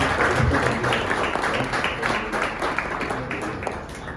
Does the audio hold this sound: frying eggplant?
no